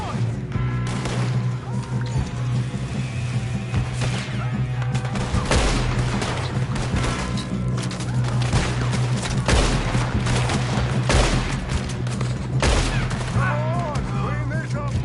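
Gunfire in Red Dead Redemption 2 during a shootout with O'Driscolls: a rapid, dense fusillade of rifle and pistol shots cracking near and far, with overlapping reports and booms throughout, set against a steady low game hum.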